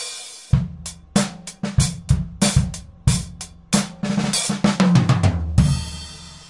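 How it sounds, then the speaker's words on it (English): Drum kit with bass drum, snare, tom and cymbals played in a short loud groove, punchy hits and crashing cymbals up close, ending on a sustained cymbal wash. "That's the drum kit or the drum set."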